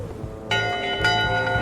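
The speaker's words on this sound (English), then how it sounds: "Top deck schedule. 1 bell, crew voting. 2 bells, LeChuck shouting." A ship's bell rings on the top deck in Return to Monkey Island, two bright metallic strikes about half a second apart ringing over a low musical background.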